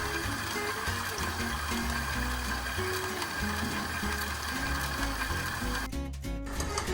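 Stand mixer with a hook attachment kneading chocolate pastry dough, giving a continuous loud motor whir with a rhythmic churning pulse that holds steady throughout.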